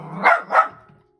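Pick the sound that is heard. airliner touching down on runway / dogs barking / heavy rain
dogs barking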